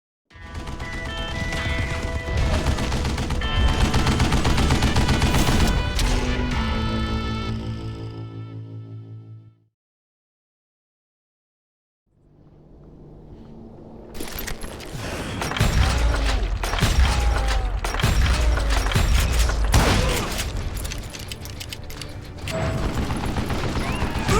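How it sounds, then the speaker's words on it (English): Gatling gun firing in the video game Call of Juarez: Gunslinger, loud sustained rapid bursts with mechanical clatter, a brief silent pause, then another long, dense volley of gunfire. "Kid Curry opened up on me with a goddamn Gatling gun"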